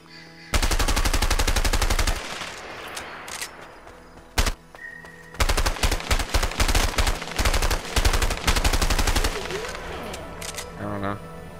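Gunfire in A Way Out, loud rapid automatic bursts in long strings separated by short pauses and a single sharp shot, with voices speaking between and over the firing.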